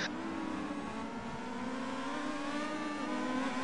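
Open-wheel race cars at a Race of Champions event drive by with a buzzy, high-revving engine note, steady and fairly distant, with continuous mid-pitched drone and no talk over it.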